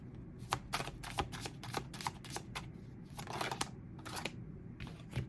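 Tarot cards laid out one by one on a table, giving a series of soft, papery flicks and slaps at an uneven pace over a low room hum, close by, with no speech.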